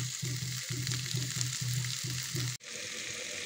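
Jackfruit and chicken stir-frying in a pan, a loud steady sizzle broken by rhythmic scraping strokes of a spatula, stopping briefly near the end before the frying resumes.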